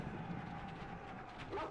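A pack of dogs barks and yips on a Rome Total War battlefield. The barking is faint and distant, mixed into low battle noise.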